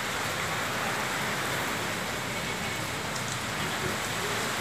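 Steady, dense rain pours down during Cyclone Nivar in Tamil Nadu, a constant close hiss of drops on surfaces with no pauses and no voices.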